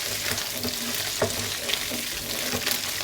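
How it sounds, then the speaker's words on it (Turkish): Lamb tail fat sizzling and frying in a pan as it renders, a steady crackling hiss with small pops, close and alone with no talking. "yavaş yavaş hem kızartıyoruz hem de eriyor, eritiyoruz bu şekilde yağımızı."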